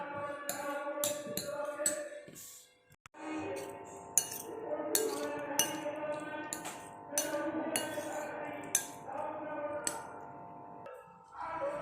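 A spoon clinks repeatedly against a glass or ceramic bowl while tamarind pulp is added for aloo kabli, bright irregular taps and rings, close and clear, with someone speaking between them.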